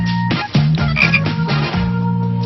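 A frog croaking in a backyard, a series of loud, close, buzzy croaks in quick uneven bursts, with no other sounds or voices.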